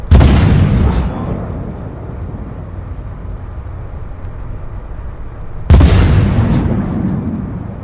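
A tank in Armoured Warfare fires APDS shells: two loud, sharp booms about six seconds apart, each followed by a long, rumbling decay.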